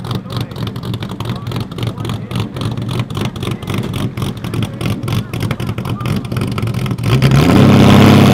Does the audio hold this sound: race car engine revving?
yes